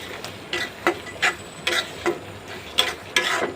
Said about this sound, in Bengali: দেখুন আমি নাড়াচাড়া করে সুন্দর করে মশলাটা কষায় নেওয়ার চেষ্টা করতেছি